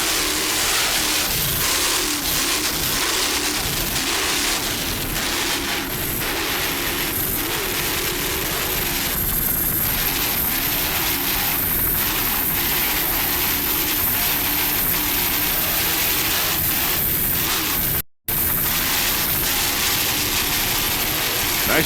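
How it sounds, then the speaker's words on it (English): Ohio Steel inboard racing powerboat engines roar steadily and loud at an offshore grand prix on the Chicago lakefront, a continuous throaty drone with slight throttle swells, cut by one brief dropout near the end. "Just listen to those Ohio Steel inboards."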